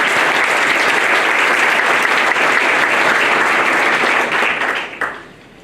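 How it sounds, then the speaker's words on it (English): Large audience applause at a city mayor's address, dense and steady for several seconds before fading quickly into quiet. "I ask you once again to give them a big round of applause"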